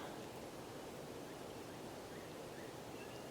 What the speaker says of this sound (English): I can hear the creek flowing